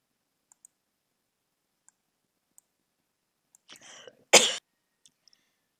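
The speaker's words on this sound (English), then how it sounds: "Apologies, had to stop for a coughing spell." A person in a quiet room has a coughing spell: a short hoarse throat-clearing followed by one sharp, loud close cough, with faint clicks before it and near silence around it.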